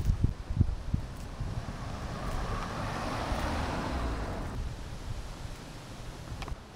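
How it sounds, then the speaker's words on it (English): Strong wind gusts across an outdoor street in Hull on a windy day, a steady broad rush buffeting the microphone with a few low thumps at the start, with faint traffic in the background. "It's so windy today"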